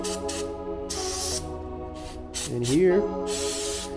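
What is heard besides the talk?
aerosol spray into Honda Shadow VLX600 motorcycle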